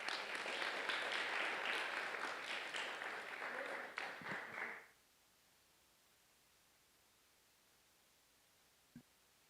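Conference audience applauds a speaker at a clinical research event, a moderate, fairly distant wash of clapping that fades out after about five seconds, leaving near silence and one faint knock near the end.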